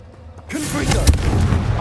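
A Confringo blasting spell explodes in Hogwarts Legacy, a sudden booming burst that swells out of near silence into a rumbling, crackling roar, loud and close, with a sharp thud peaking midway.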